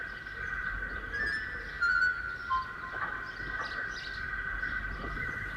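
Small birds chirping and tweeting as they are freed from boxes on a clean beach, light high calls over a steady tonal hum, with a few brief louder chirps in the middle.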